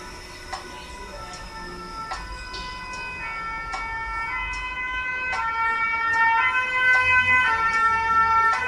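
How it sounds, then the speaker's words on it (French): A fire engine siren passes outside, its wailing tones rising steadily in loudness as it approaches, with faint ticking in the room and no talking. "Maintenant, c'est les pompiers."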